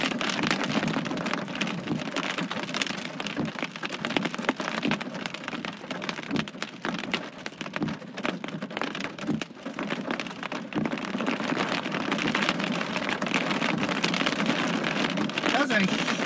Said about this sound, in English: Those are huge raindrops